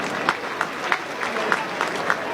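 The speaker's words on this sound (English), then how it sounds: "As round of applause for Jake Lever as he makes his way to the bench." Crowd applause rolling through a stadium at an AFL match between Melbourne and the GWS Giants, a broad steady wash with faint claps, under talk.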